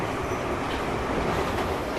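A New York subway train runs loudly and continuously, a dense rumbling roar with rattling wheels and faint squealing that fills the whole stretch without any talk.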